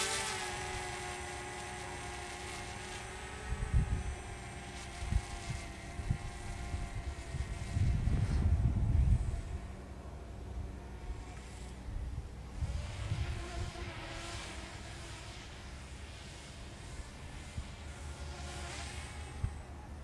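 A DJI Mavic Mini drone flies at high speed in sport mode, a steady high-pitched propeller whine with layered harmonic tones, heard at a distance under outdoor wind buffeting.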